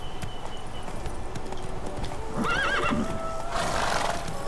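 Roach, a horse in The Witcher 3, galloping with steady rhythmic hoofbeats, then a loud whinny midway and more neighing near the end, all close and clear.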